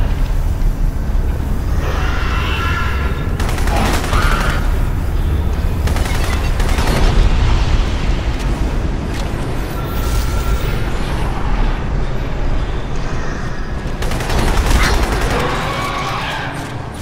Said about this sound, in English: He was actually shooting at me.